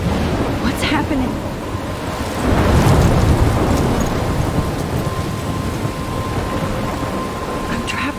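A thunderstorm in the video game Life is Strange, with heavy rain hissing steadily and a deep rumble of thunder swelling partway through, loud and enveloping.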